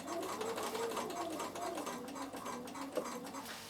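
A domestic Bernina sewing machine stitching quilting lines on a fabric basket, a quiet, fast mechanical whirr with rapid rhythmic ticking, running continuously.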